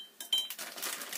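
A small spoon clinks against a bowl while olive emulsifying wax is added for a homemade cream, giving a couple of bright metallic taps followed by soft scraping and rustling, close and quiet.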